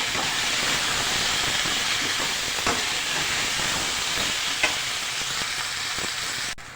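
Potatoes frying in a pan with garlic-ginger paste make a loud, dense, steady sizzling hiss up close, with a few light stirring knocks and no speech.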